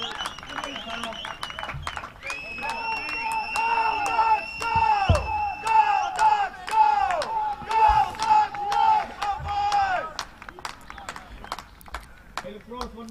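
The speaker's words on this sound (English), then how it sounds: "It's really hard to talk with such a big crowd here, cheering so loud." A big crowd at a European baseball cup game cheers loudly in swelling waves, with claps, horns and whistles, while a commentator talks over the noise.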